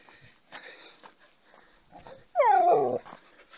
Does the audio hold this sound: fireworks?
no